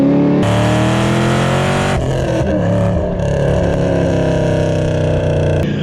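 A Camaro ZL1 engine roars loudly and continuously up close, rising in pitch as it accelerates, then drops briefly around a gear shift before pulling hard again with a steady, deep growl.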